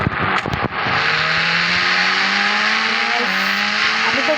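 Audi R1 car in the Indian Bike Driving video game, its engine holding a loud steady drone with rising pitch as it accelerates, after a couple of brief knocks at the start.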